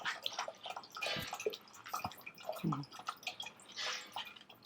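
Soaked tamarind water is poured, probably strained through a hand, making soft, intermittent splashes and drips with brief gurgles, quiet and close.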